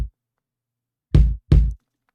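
A processed kick drum sample for a neo-soul groove, its lows boosted, mids cleaned up and distortion added: the tail of one hit at the start, then two deep, punchy thumps in quick succession with no other sound.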